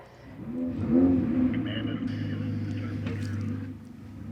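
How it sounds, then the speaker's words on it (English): Several Ferrari Challenge race cars, Trofeo Pirelli series at Road Atlanta, fire up their engines together, giving a low steady rumble that swells and holds at moderate loudness, with some faint background noise over it. "the power is unleashed then as the cars roar into life upon Shea's command."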